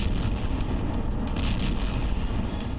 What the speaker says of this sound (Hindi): इस दौरान न सिर्फ तेज धमाका हुआ, बल्कि रॉकेट फटने के बाद परमाणु बम की तरह आग और धुएं का मशरूम क्लाउड बन गया